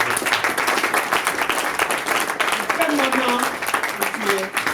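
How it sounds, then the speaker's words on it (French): Audience applause at a one-man comedy show, a dense crowd of clapping filling the room, steady and loud, with voices and a shout heard through it. "Merci d'applaudir."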